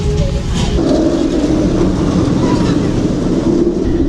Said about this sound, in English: I can see a train going up the lift hill for Galactica